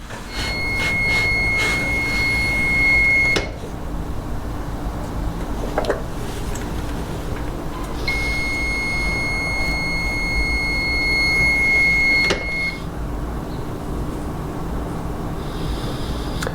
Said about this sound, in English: it's not grounded, so the engine will run.